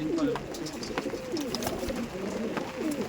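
Several Pakistani Chotiyal pigeons coo in soft, rolling, overlapping calls close by, with light rustling in the background.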